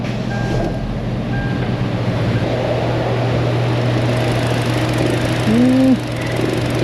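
A steady low engine hum idles throughout, with a brief higher whine rising near the end; no talking.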